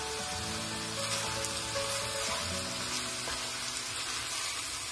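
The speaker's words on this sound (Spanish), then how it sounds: "Seguimos sofriendo." Meat sautéing in a pan with basil, ground black pepper, salt and sweet paprika, a steady close sizzle and crackle running the whole time with no talk.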